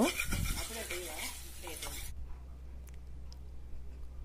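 Fish egg burji stirred quickly in a pan, with a person talking over the first half, then soft repeated scraping and light ticking of the stirring against a low, steady hum.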